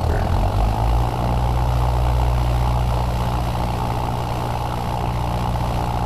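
A light aircraft engine and propeller drone steadily during a pre-flight run-up check on the ground, loud and close, with a constant low hum and no speech.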